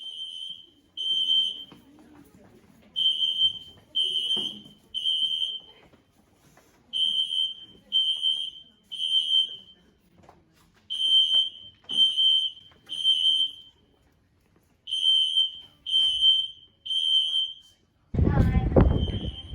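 A school fire alarm sounds in repeated bursts of three shrill electronic beeps, evenly spaced with short pauses between groups, loud and close.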